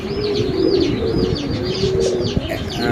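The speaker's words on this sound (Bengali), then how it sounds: "মাসাল্লাহ কোয়ালিটি কবুতরগুলো দেখেন" Several pigeons coo in soft, repeated throaty phrases that overlap, close by at a pigeon seller's, over a low rumbling background with occasional chirps.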